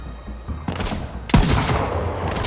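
Gunfire from weapons in the video game Borderlands 3, with a few loud shots at the start and then a heavier sustained burst of rapid fire that fills the rest of the stretch, up close and without talk.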